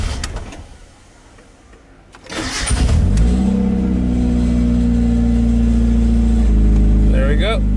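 A Mazda Miata NA with a freshly changed fuel filter cranks and fires up after a quiet pause. It then settles into a steady, smooth, loud idle that runs close by to the end, with brief talk over it.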